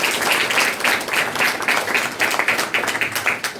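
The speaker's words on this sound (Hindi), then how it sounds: "हम ताली बजाकर उनका स्वागत करेंगे" An audience claps together to welcome a guest, a steady run of rhythmic hand claps lasting several seconds at moderate loudness.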